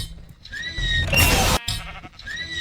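A Minecraft sheep bleats a couple of times, close and clear, with a loud burst of game noise in between.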